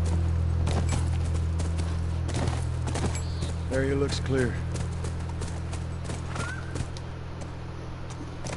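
Horse hooves clip-clop in The Last of Us video game, a short run of quick hoof strikes at a ranch over a steady low hum and game music, with a voice speaking briefly.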